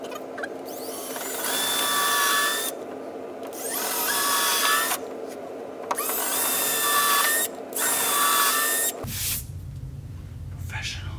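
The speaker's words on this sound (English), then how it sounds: "now we're gonna drill into the wall, right into the stud" A power drill whines in several bursts of a few seconds each, drilling into a wall stud, pausing between runs, then stops as a low rumble takes over.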